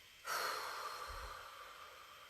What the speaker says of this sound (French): Alors on y va, on se gêne pas, on baille.